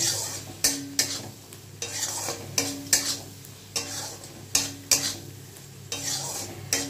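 Masala spices with coriander powder sautéed in a pan for a fish curry, heard as close, regular scraping stirs with a metal spoon, about one per second, over a faint continuous sizzle.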